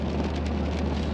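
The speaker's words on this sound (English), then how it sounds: "I think it's calling for like a ½ inch of rain." Steady rain falls on the Oregon coast, a dense, even hiss of drops with no voices, continuous and moderately loud throughout the short stretch.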